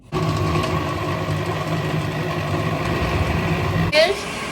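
A blender whirs steadily as it blends ginger, parsley, a whole squeezed lemon and about one and a half litres of water into a drink, a loud continuous motor drone that shifts pitch near the end.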